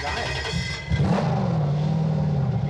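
Harper Type 5 prototype race car on a track in Cape Town, engine revving up and holding a steady droning note, moderately close, with voices briefly underneath.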